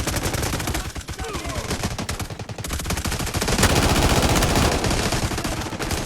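Rapid automatic gunfire from the Delta Force video game, a dense string of sharp shots close and loud, briefly thinning before a heavier sustained burst, with a voice talking faintly underneath.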